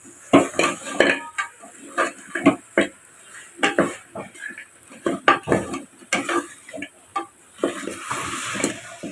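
Beef chukka masala being sautéed in a pan, with repeated scraping and clanking of a spatula against the pan in an uneven rhythm, close and fairly loud, no talk.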